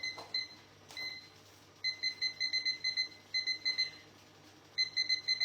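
Kitchen timer on a cooking robot beeping in bursts of rapid high-pitched beeps, several groups separated by short pauses, close and clear over a quiet kitchen background with no talk.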